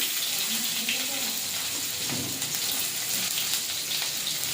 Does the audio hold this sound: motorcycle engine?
no